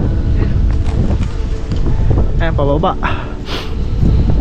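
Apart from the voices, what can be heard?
strong wind on a motorcycle ride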